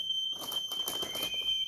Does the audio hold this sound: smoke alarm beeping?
yes